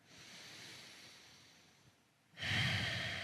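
During a lower-body active recovery workout, a person takes slow, deep, relaxing breaths close to the mic: a long airy inhale and a fading exhale, then after a short pause a louder, fuller breathy exhale.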